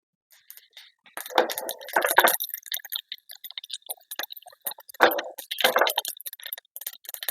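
Mustard seeds crackle and pop in hot coconut oil for a curry, giving scattered sharp ticks in irregular bursts, close and fairly quiet, with no talking.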